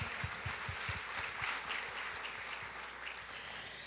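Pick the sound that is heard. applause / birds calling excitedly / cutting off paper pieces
applause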